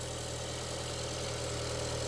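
A rebuilt car engine runs steadily at idle, a continuous mid-to-low mechanical hum with an even throb and faint knocking character, heard alone and fairly close with no talking.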